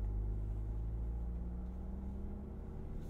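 A Ford Bronco Raptor climbs a hill in four-wheel drive low, its engine a steady, deep, close rumble with a faint hum from inside the cabin, slightly easing toward the end.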